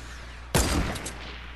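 A single burst of gunfire erupts partway through a Fortnite match, a sharp loud crack with a brief rattling tail over a low steady background.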